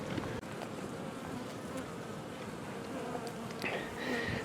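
Honey bees buzz steadily and fairly loud throughout a hive inspection of a colony with sacbrood, a dense continuous drone with brief louder passes near the end.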